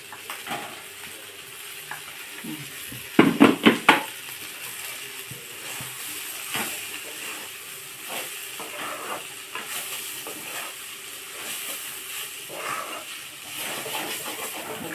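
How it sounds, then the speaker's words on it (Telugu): Cluster beans fry in a pan with a soft, steady sizzle and hiss, broken near the start by a short burst of loud scraping stirs, then quieter occasional stirring strokes. "ఇలా సిమ్లో పెట్టి మూత పెట్టుకుంటా నిదానంగా వేయించుకోవాలి"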